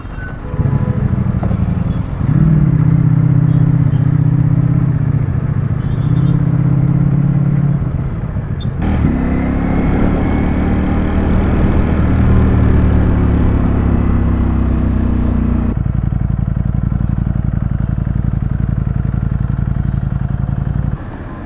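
A Ducati V4 motorcycle with a failed cooling fan is ridden along, its loud close engine droning and shifting pitch through several gear changes, continuous with no talk.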